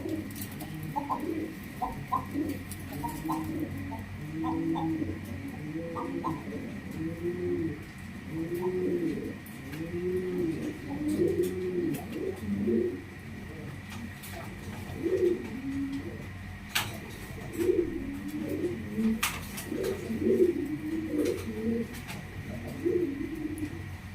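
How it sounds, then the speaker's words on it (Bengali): Pigeons coo repeatedly in a loft, with overlapping low, rolling calls from several birds close by and a few scattered chirps over a steady background hum. "কবুতর কিন্তু খুবই সুন্দর সুন্দর বেশি কবুতর রয়েছে আজকে"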